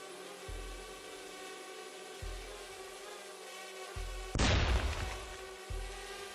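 Explosion as an FPV drone strikes a Russian vehicle next to a house in occupied countryside, a sudden loud burst standing out from a steady background drone, with a few softer thumps before and after.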